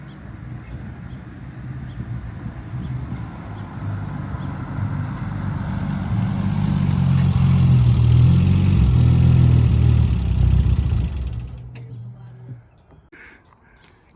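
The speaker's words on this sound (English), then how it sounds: "the funny thing about a TR6, he's probably a couple blocks away, but I can hear him coming" A Triumph TR6 sports car, top up, approaches from a couple of blocks away, its engine rumble building steadily to a loud, close pass before fading out.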